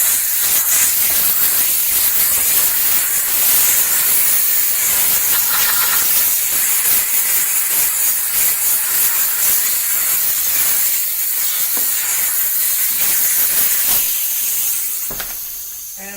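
Chief Steamer 125 PSI steam cleaner blasting steam onto a car to clear bugs, a loud continuous hiss that runs steadily for the whole stretch and tapers off near the end, with no talking.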